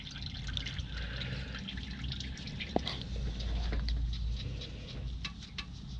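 Oil dripping during an oil change on a 2018 Trail 8, soft scattered drips and small plinks over a steady low rumbling background, with one sharper drop standing out midway.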